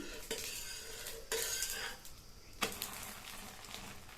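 A wheat rava dosa being drizzled with oil and turned on a hot pan, with quiet sizzling and sharp metallic scrapes and clanks of the spatula in a few distinct bursts, close and without talk.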